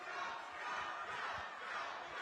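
A big crowd at a Fury Fighting Championships MMA event roars and cheers continuously, a broad, sustained wall of distant arena noise with no clear breaks.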